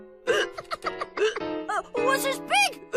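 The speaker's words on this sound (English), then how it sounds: "Henry's got the hiccups." A cartoon boy in a classroom scene hiccups repeatedly, sharp voiced jolts recurring every half second or so against faint background tones, with no clear words between them.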